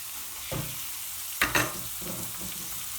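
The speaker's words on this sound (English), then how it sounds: "as soon as the garlic starts changing colour, guys, we're going to add in our 2 finely chopped onions" Finely chopped onions hit garlic sizzling in hot oil for a spicy chicken aloo curry, a constant close crackle with a sharp louder splash of added onions and stirring scrapes, no talking.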